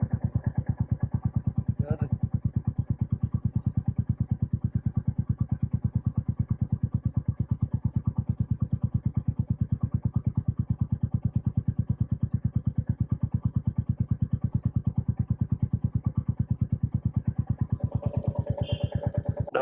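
A Royal Enfield Meteor 350 motorcycle climbs uphill in the Kolli Hills, its single-cylinder engine thumping in a steady, close, even rhythm throughout, with a brief clatter near the end.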